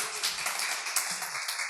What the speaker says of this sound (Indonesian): kita kasih tepuk tangan buat Denis.